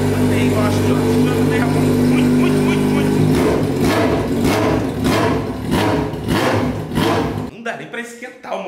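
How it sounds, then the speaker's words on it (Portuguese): A mini motorcycle engine runs indoors, first a loud steady idle and then a series of sharp, rapid revs rising and falling close up before cutting off abruptly near the end. "Esquentar o motor dela aqui dentro de casa, porque senão é perigoso quebrar todas as janelas de tanto barulho que o negócio faz"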